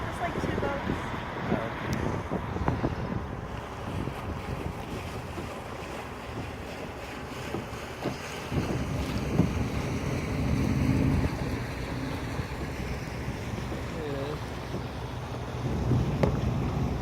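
Motorboats passing near a kayak on open water at Sandy Point, Maryland, a steady engine drone mixed with wind buffeting and lapping waves, with voices talking over it.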